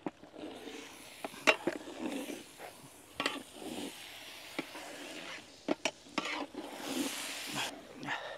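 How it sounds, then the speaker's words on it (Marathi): Dal is stir-fried in spices in a pan for a Vidarbha-style dal kanda dish, with intermittent spoon scrapes and clicks over a faint, soft sizzle. "डाळ आता व्यवस्थित परतून घेऊ मसाल्यांमध्ये।"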